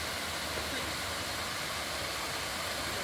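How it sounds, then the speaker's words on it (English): Lucky Waterfall in Slovakia, a 13-metre drop, pours as a dense, unbroken roar of rushing water, loud and close, steady throughout with no pauses. "This waterfall is in a place called Lukai, or Lucky as we would call it, so it's known as the Lucky Waterfall."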